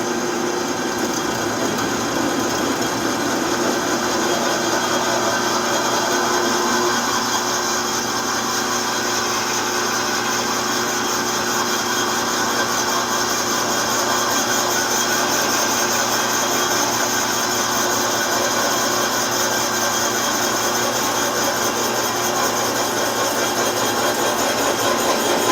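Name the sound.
power drill drilling into wood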